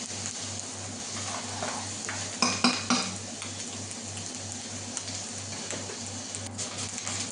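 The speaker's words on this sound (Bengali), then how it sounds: "দেখতে পাচ্ছেন আমার পেঁয়াজ সুন্দর ফ্রাই হচ্ছে" Onions frying in oil in a heated pot give a soft, continuous sizzle under a steady low hum, broken by a few clattering utensil knocks and stirring scrapes near the middle.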